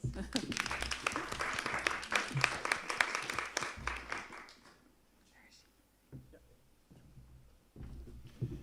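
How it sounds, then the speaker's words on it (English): Brief applause at an academic institute's livestreamed event: scattered clapping from a small audience lasting about four seconds, then dying away into quiet room noise and the start of a voice. "Maybe an applause for Juita."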